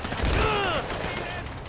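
Gunfire in GTA 5 Online during a submarine heist, a dense rattling burst of shots with whining ricochets, steady and fairly loud across the whole moment.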